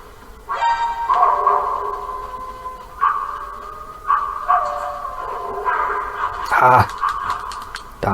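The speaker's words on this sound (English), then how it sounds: "Ah, damn dogs." Dogs bark and yelp repeatedly in the background with tonal, ringing barks in several bursts, fairly clear over a quiet room, with some voice present.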